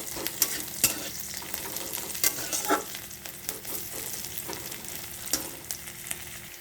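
Onion, green chilli and ivy gourd fry in a pan with a steady close sizzle, broken by sharp clicks of a utensil stirring and scraping the vegetables.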